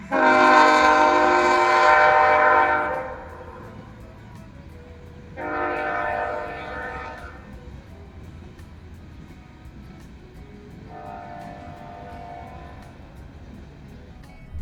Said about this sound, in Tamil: ஆனால் ட்ரெயின் போச்சுன்னா ஒரு 150 பெட்டி 160 பெட்டின்னு சொல்லிட்டு போகும்.